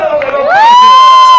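On a pirate boat show, a single loud, drawn-out shout of cheering rises and holds briefly before dropping off.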